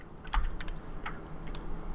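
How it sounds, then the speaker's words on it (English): Keys tapped on a computer keyboard while making a social media graphic, a handful of quick, light clicks in an uneven burst, close and clear against a quiet room. "We can move it up or down with our keyboard."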